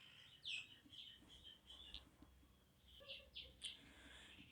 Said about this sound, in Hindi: वो चिड़िया शोर मचा रही हैं, शांत नहीं हो रही।